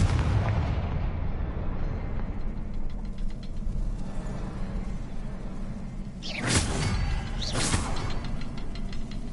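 A Confringo fire spell bursts in Hogwarts Legacy, a couple of loud, whooshing explosive blasts rising late over a steady rumbling game ambience, with no voices.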